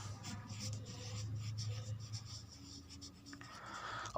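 Marker or chalk scratching across a board in a chemistry lesson, a run of short rubbing strokes with steady rhythm, fairly close, with a faint low hum beneath.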